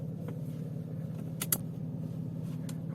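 A car pulls into a parking spot at a detailing shop, heard as a steady low engine rumble with a couple of brief clinks partway through.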